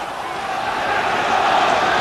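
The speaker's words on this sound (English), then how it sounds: "The crowd exhorting the champion Watt" A boxing crowd at a WBA lightweight title fight between Jim Watt and Alexis Arguello roars steadily and loudly, urging on the champion Watt late in round 13, a dense, continuous wall of voices that swells slightly.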